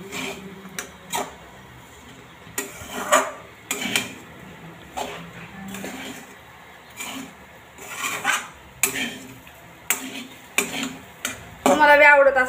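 Leftover bhakri pieces being stirred in a pan with onion and salt, giving intermittent scraping and clinking strokes of a spatula against metal, close and uneven, with a short rattling burst at the end.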